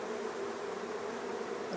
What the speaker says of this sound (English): There's no comb up in here, so it's just a big solid ball of bees.